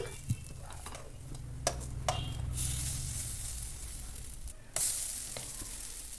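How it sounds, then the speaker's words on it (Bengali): Snacks frying in oil in a pan as they are turned over, a steady close sizzle with a low hum beneath, punctuated by a few sharp clicks and scrapes of the utensil against the pan. "দেখুন আমি এখানে সমস্তগুলো এইভাবে উল্টে দিচ্ছি"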